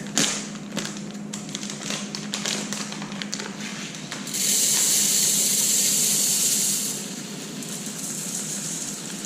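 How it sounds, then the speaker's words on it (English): Jasmine rice is poured into a rice cooker. It starts as a rattling, tapping patter of grains, turns into a louder steady hiss, then eases back to a softer pour. "we're going to add our jasmine rice to the rice cooker"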